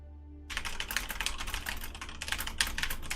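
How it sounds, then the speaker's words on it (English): Very fast typing on a computer keyboard, with a rapid, continuous clatter of keystrokes close to the microphone that starts half a second in and runs to the end, over a low steady hum and with no talk. "Like I'm typing and it sounds like"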